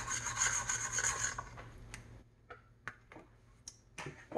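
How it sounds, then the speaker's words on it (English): A spatula scrapes down the sides of a bowl of chocolate chip cookie dough, a steady rasping rub for about two seconds, then a few separate short scrapes and taps, close by with no speech. "I'm just gonna make sure that I scrape down my sides so that everything is mixed well."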